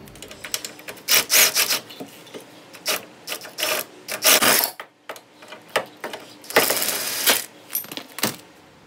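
Ratchet clicking away on control arm bolts under a Nissan Z31 during a subframe swap, bursts of rapid pawl ticks and metal rubbing in uneven spurts with short pauses between strokes.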